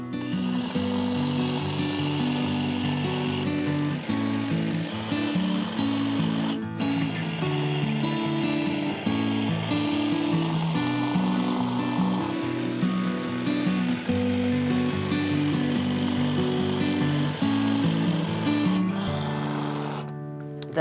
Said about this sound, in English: This is just a battery powered hedge trimmer.